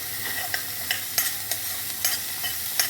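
Onion, mixed vegetables, garlic and capsicum are stir-fried over full heat for veg momo filling, giving a close, constant sizzle broken by regular spatula scrapes and clacks about every half second.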